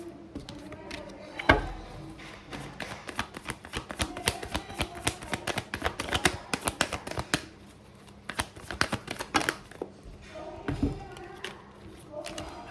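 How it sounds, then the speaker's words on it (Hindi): Cards are pulled from a deck and laid down for a career and love reading. Quick, papery flicks and riffles come in a busy run, with a couple of duller thuds as cards hit the surface. "Let me take out some more cards."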